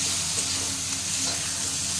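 Turmeric and spices sizzle in a pan with oil while being stirred for a fish and drumstick curry; a steady, close frying hiss runs throughout with faint stirring movement.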